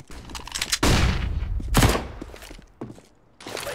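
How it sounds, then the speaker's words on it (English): A flashbang grenade detonating in Counter-Strike Global Offensive, heard as a few sharp, loud bursts in quick succession with short decays amid nearby gunfire-like cracks. "Flashbang out."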